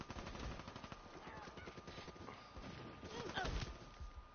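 Rapid automatic gunfire in an online shooter video game, bursts of quick cracking shots at low level, some more distant and scattered, with faint voices underneath.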